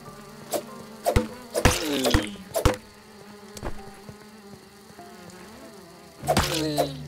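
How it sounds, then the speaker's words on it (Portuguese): A buzzing fly sound in the video game Grounded with sharp, high squeaky death chirps, a burst of several near the start and another near the end, with quieter gaps between. "O gritinho da mosca quando morre."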